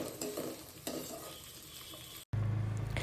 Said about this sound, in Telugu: పొట్టు ఒలుచుకున్న 10-12 వరకు వెల్లుల్లి రెబ్బల్ని కూడా వేసుకొని మెత్తగా కొద్దిగా ఉడికేంత వరకు ఫ్రై చేసుకోవాలి